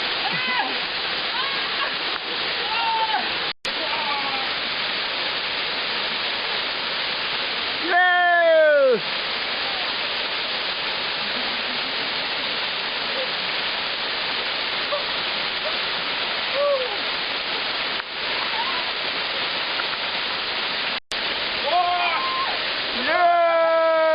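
Rusyliv waterfalls pour in a steady, loud roar of rushing water that fills the whole scene, with short bursts of voices breaking in now and then.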